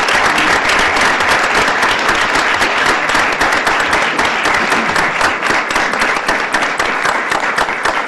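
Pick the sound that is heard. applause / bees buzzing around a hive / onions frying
applause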